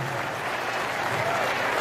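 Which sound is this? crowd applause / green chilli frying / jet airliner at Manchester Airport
crowd applause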